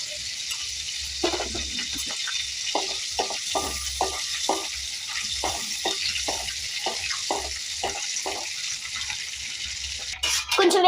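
Cumin seeds and garlic dropped into hot oil crackle in a continuous close sizzle, broken by a regular series of short stirring scrapes and taps, with a sudden louder clatter at the very end and no talk.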